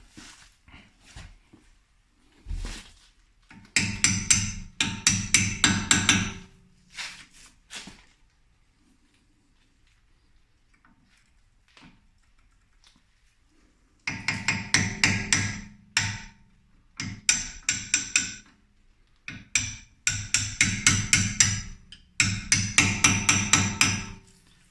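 Metal chisel tapped against a Mercedes brake caliper to free the pads, bursts of rapid sharp metallic knocks in clusters, close and fairly loud, with a quiet pause between groups.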